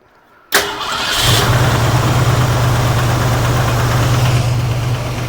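A car engine cranks and catches with a sharp burst, then settles into a steady, loud idle with a low hum, heard close by without any talking.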